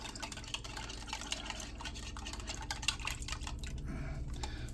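Water sloshing and dripping inside a can as it is rinsed out, soft close liquid swirls and small splashes with no talking.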